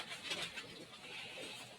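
Siamese pigeons coo softly nearby, making a few low, warbling calls against quiet background noise.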